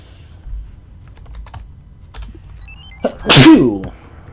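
A single loud sneeze bursts out near the end, following soft scattered clicks and taps in a quiet room.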